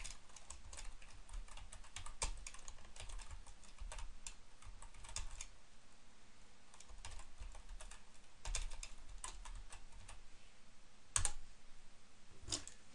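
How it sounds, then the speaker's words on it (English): Typing on a computer keyboard while entering a title for an infographic in an online design tool, with steady close key clicks in bursts and a few louder keystrokes, no voices. "I'll type in the title of my infographic here."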